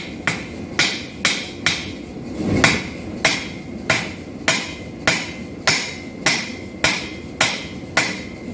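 A hand hammer strikes an integral knife blade on an anvil during forging, sharp metallic blows landing in a steady, even rhythm about every half second, loud and close with no talking.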